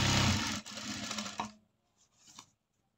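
A sewing machine runs in a loud continuous burst stitching a 36-inch chudi top along a marked line, then stops, followed by a couple of faint handling clicks.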